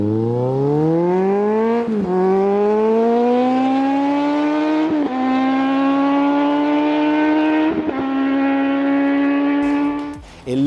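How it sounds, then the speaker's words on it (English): A Kawasaki Z1000 motorcycle with a twin-exit Scorpion Red Power exhaust roars loudly and close, its pitch climbing repeatedly, with brief dips between the climbs like gear changes. "the all-important soundtrack, the Scorpion Red Power Exhaust,"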